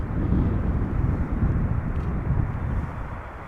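A Turkish Airlines Airbus A330 arriving at Amsterdam Schiphol Airport from Istanbul gives off a continuous, broad jet roar heard from a distance, holding fairly steady throughout.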